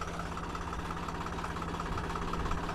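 A tractor engine idles steadily at close range on a farm before wheat sowing, giving a continuous low rumble with an even, unbroken drone throughout.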